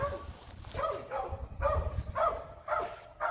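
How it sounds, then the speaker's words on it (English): A dog on a farm barks in a rapid series of short, mid-distance woofs, with several clustered barks spaced through the clip over low outdoor background noise. "you can hear my dog"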